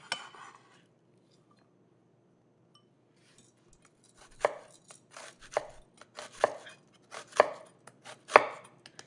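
A knife cuts through potato on a board, a run of about eight crisp, evenly spaced chops after a few seconds of near silence.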